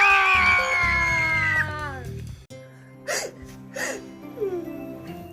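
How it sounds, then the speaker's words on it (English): A child in a pretend-play doctor scene hiccups three times in short, sharp vocal bursts about a second apart, close and clear, following a drawn-out voiced tone. "I have hiccups"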